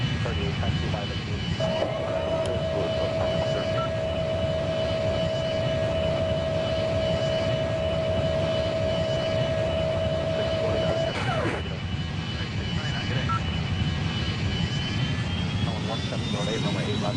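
Southwest airliner jet engines taxiing in the mobile game Airline Commander make a steady, loud, droning roar with a sustained whine throughout, while radio-style voices talk over it.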